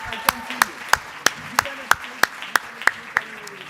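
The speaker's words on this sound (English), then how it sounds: "Let's just give everyone another round of applause." Audience applauding at the Aspen Prize for Community College Excellence ceremony, heard as a very regular, evenly spaced series of about a dozen crisp, loud claps in a steady rhythm with no voices over them.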